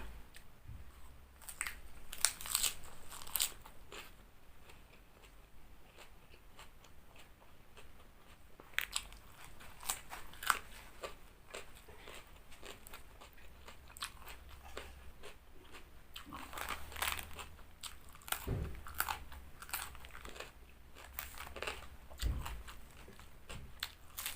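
Close-up eating of steamed chicken wraps with dipping sauce: repeated soft bites, crunches and wet chewing with short pauses between them, and no speech.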